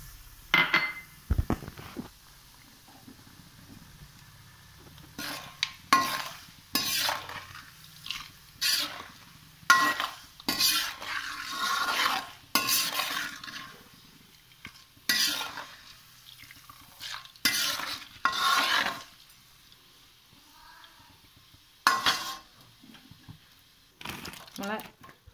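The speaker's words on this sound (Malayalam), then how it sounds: "ഇനി നമുക്ക് പൊട്ടുകടല ഇട്ടെടുക്കാം." Roasted gram being stirred and tossed in a pan for an aval (beaten rice) mixture, a string of sharp clinks and scrapes of a spoon against metal in quick irregular bursts, close and moderately loud, with quieter gaps between.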